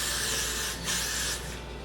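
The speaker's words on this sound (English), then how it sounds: "we're gonna lightly mist where we sprayed." A spray bottle lightly mists a wig hairline in a steady close hiss lasting nearly two seconds, with a brief dip and renewed burst in the middle; no voices.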